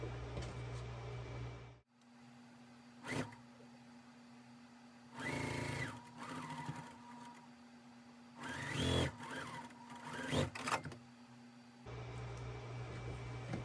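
Bursts of a sewing machine stitching a quilt block with rose fabric, several short runs of whirring stitches separated by quiet pauses and handling clicks, close up.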